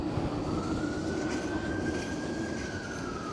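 A Blackpool tram pulling away toward Fleetwood, a close steady rolling rumble with a rising and falling whine of wheels and motor, with no talk.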